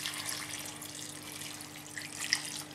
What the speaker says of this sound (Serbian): ubacit ću u šerpu, normalno dodati vodu